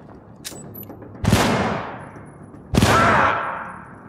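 Two separate bursts of gunfire in the video game Syndicate, each a sharp loud crack trailing into a long decaying echo, spaced about a second and a half apart, with faint clicks before the first.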